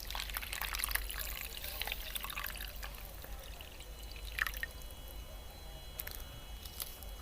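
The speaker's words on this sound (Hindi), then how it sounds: "तो अब इसके अंदर डाल देते हैं 1 कप दूध।" A cup of milk is poured into sifted semolina, giving a soft, continuous liquid pour over faint background noise, quiet and close, with no speech.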